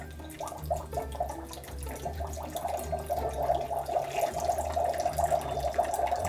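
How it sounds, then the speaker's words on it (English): Water poured into a small toy potion bottle for a blue and pink Magic Mixies cauldron, a soft continuous trickle and gurgle that grows slightly louder and steadier, heard alone and close. "step number one says add water inside of this potion bottle"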